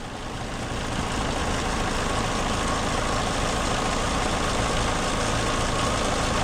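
A 2011 Toyota Camry engine running rich with a suspected bad mass airflow sensor idles, a steady loud rumbling drone that rises slightly at first and then holds even, with no voices.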